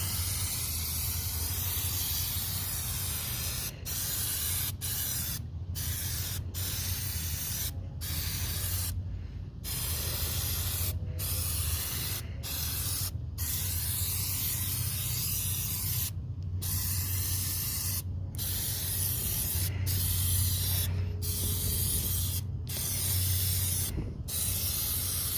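Plasti Dip sprayed from an aerosol can onto car wheels at night: a steady, close hiss running almost continuously, broken by a dozen or so brief pauses as the nozzle is released.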